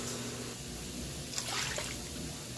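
Water is poured from a one-cup measuring cup into a Cosori pressure cooker holding beef stew and seasoning mix, making a steady close splash and trickle that swells briefly in the middle.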